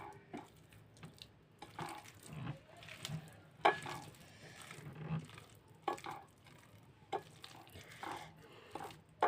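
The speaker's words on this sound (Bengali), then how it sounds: "কলাটা হাত দিয়ে ভালোভাবে ছানি নেব" Banana is mashed by hand for a spicy Bengali bhorta, giving soft, wet squelching and squishing in irregular bursts, close up and fairly quiet, with occasional light knocks against a dish.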